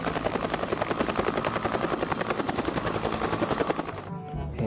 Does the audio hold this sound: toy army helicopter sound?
yes